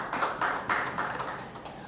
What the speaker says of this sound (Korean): 하나님께 영광의 박수로